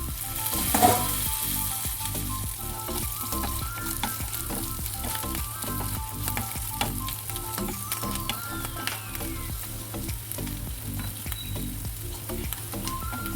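Bitter gourd curry fries on low heat in a pan, giving a steady, close sizzle with small scraping stirs and clicks running throughout.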